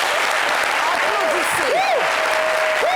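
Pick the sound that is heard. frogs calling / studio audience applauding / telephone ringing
studio audience applauding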